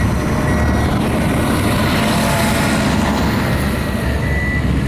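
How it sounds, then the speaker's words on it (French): Snow groomers passing on a ski touring piste at altitude in the Italian mountains in winter, a loud, steady engine rumble and roar that fills the whole stretch without pause. "Elle peut pas être mieux faite avec tous ces ratraques qui viennent de passer, qui passent."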